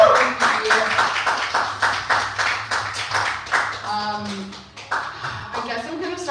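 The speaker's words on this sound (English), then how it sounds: "clap your hands, clap your feet." At a live comedy show in Los Angeles, the crowd claps and stomps in a loose rhythmic burst, close and lively, with scattered cheers and voices mixed in.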